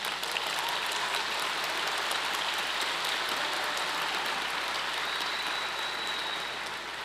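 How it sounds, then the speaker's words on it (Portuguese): Sustained applause from a church congregation, a dense even wash of clapping that holds steady throughout and eases slightly at the very end, with no talking over it. "pode aplaudir Jesus."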